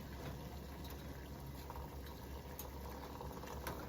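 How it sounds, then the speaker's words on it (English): Water at a rolling boil in a cooking pot, readied for soft ramen eggs, gives a steady, close bubbling hiss that holds at an even level throughout with no talking. "We have reached our boil, and now we're going to lower our eggs very gently in."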